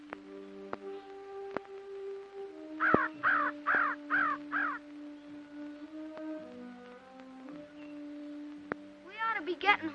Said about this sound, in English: who wants an old crow anyways?